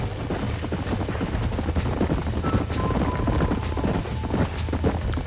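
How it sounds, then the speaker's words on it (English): Horses at a ranch in Red Dead Redemption trot with dense, continuous clip-clop hoofbeats, loud and close over a low rumbling backdrop, with a faint whinny-like tone partway through. "These are fine horses."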